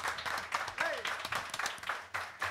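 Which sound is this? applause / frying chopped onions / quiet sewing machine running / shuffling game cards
applause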